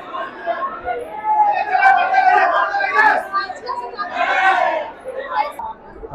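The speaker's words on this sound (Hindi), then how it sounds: "बहुत भीड़ है, बहुत भीड़, प्रशासन को लगना पड़ रहा है" A dense crowd chatters and murmurs at the ISKCON temple in Patna on Janmashtami night, a steady babble of many voices close around with swells of louder calls, continuous throughout.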